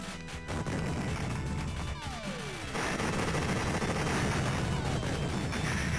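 Dense, continuous bomb explosions and rapid gunfire roar from the arcade shooter Raiden II, a loud, sustained barrage with a brief falling whistle partway through.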